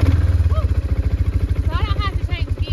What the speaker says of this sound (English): it's sitting there idling without any choke now